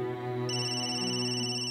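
A phone ringtone plays a bright electronic melody, close and steady, with no one speaking over it.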